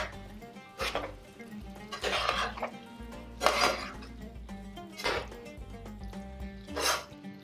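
Peshawari garam masala being stirred into chicken in a pan, heard as repeated scraping and clinking of a utensil against the pan in several separate bursts, close and moderately loud, with no talk.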